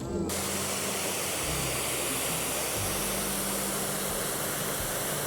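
The Potomac River flows in a steady, loud rush of water close by, a dense unbroken wash that runs the whole time with a low hum beneath it.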